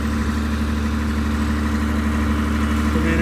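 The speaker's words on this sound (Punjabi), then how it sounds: "ਚੱਲਦਾ ਜਨਰੇਟਰ" A running diesel generator on a farm, fed with fuel during rice paddy puddling work, keeps up a steady mid-pitched engine drone at close range, constant in level with no talk over it.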